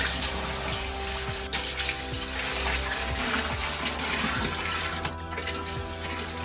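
Water for brewing a Timothy Taylor's Landlord-style beer is poured into a measuring jug, a steady, loud, continuous rushing and splashing stream heard close up with no talking.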